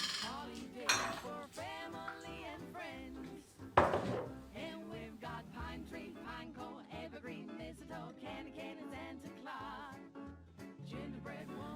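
A metal spoon clinks and scrapes as shop-bought mincemeat is scooped into pastry cups for Christmas mince pies, with repeated close taps and scrapes over steady background music and a louder knock near the middle.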